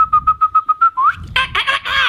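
A storyteller whistles in imitation of birds: a quick series of about eight short chirps, a rising slide, then breathy warbling trills, all close and clear.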